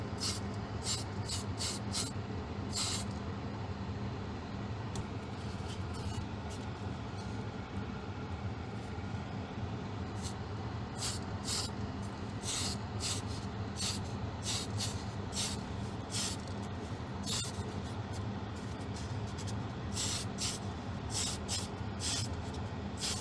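Airbrush or spray can priming the inside of model Spitfire Mk 1 fuselage halves, a continuous hiss with repeated short bursts of spraying throughout.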